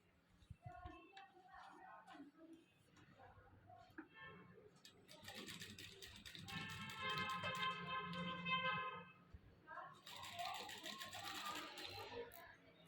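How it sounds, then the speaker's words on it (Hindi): Sewing machine stitching a fabric strip with matching thread, fast rattling mechanical runs in two bursts, the longer one mid-clip, with quiet handling sounds and a little talk before. "अब मैं वो सिलाइयाँ लगाने लगा हूँ।"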